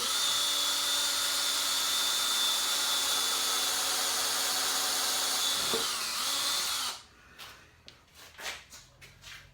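A cordless drill driving screws whines steadily at a high pitch for several seconds, slowing and stopping as its battery runs low, followed by a few short bursts as it spins up again.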